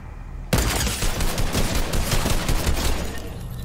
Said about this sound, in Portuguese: Vou acertar um tiro de primeira nele.